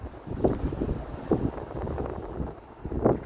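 Gusty wind blows outdoors along an autumn street lined with fallen leaves outside apartments in the USA, coming as a low rushing rumble that swells in a few buffeting surges against the microphone.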